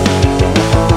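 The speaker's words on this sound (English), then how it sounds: "So we got drums going on, some bass, and two DI guitars." Dense rock song mix of drums, bass and two unprocessed DI guitars, loud and continuous with steady drum hits pulsing under thin, raw-sounding guitar chords.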